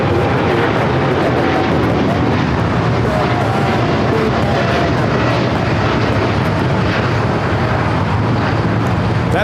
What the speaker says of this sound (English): That is United Airlines Flight 32 taking off to Tokyo Narita.